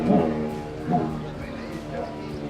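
A person imitates a dog, voicing a few short barking sounds close up.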